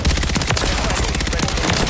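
Dense, continuous gunfire from Call of Duty: Modern Warfare III multiplayer, rapid automatic bursts overlapping into a loud, unbroken barrage close by.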